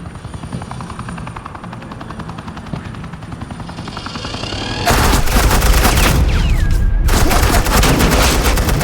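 Suppressing gunfire in the Batman: The Enemy Within video game, a dense, loud burst of rapid shots that abruptly takes over after a quieter stretch of low helicopter-like rumble, with a brief pause before the firing resumes.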